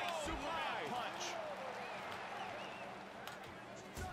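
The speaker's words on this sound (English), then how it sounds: "Crowd showing their support for Joker." Arena crowd at a UFC Fight Night bout cheering and roaring steadily throughout, a dense wall of noise with a commentator talking over it.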